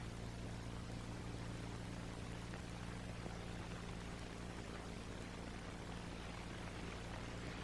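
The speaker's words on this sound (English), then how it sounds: "Now pour enough gasoline into the cylinder to test the seal of the valve faces against their seats." Gasoline poured into an aircraft engine cylinder to test lapped valve seals, a steady, even hiss of liquid flowing continuously at low level, with no voices.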